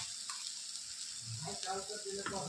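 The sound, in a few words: chili thecha added to browned onions, sizzling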